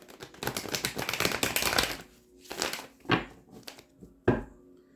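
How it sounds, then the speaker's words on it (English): Hoodoo Tarot card deck being shuffled close up: a dense, rustling two-second riffle followed by a few separate sharp slaps and flicks of the cards. "I'll be doing your reading from the Hoodoo Tarot deck. Get you some good shuffles in"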